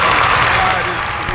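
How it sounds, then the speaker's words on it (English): Brief, dense burst of hand claps from a studio audience welcoming a guest on a talk show, loud and close, fading slightly toward the end. "Give him some hand claps,"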